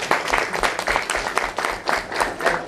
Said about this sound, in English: So give them a big clap